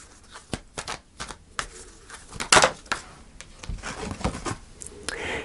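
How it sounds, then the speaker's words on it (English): Tarot cards being shuffled and pulled from a deck: a run of soft, papery flicks and taps, close and fairly quiet, with a brief denser riffle midway. "So I'm going to pull a final card for you"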